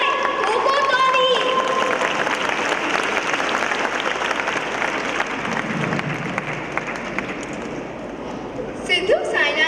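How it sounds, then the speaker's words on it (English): Applause from an audience at a school talent day stage performance, sustained dense clapping with crowd noise and voices mixed in, steady and loud for nearly ten seconds before easing slightly. "ठोको ताली"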